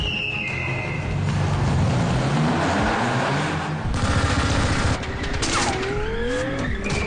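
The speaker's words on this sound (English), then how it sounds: "he's being shot at by a machine gun and shot at by these grenade launchers" Rapid machine gun fire during a Fast and Furious car stunt, a loud continuous fusillade mixed with engine roar and squealing tires, dense and close throughout.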